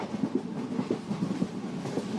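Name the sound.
train passing, clickety-clack on rails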